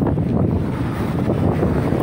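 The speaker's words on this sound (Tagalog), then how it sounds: "No, hangin kayo." Strong wind roars continuously against the microphone, a dense low rushing noise that gusts without pause, with a hint of water in the background.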